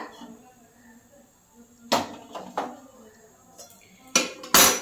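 A spatula scrapes and knocks against a kadai of hot mustard-oil-style frying oil, giving a few separate metallic clinks and taps spaced over a few seconds, close and fairly loud against a quiet room.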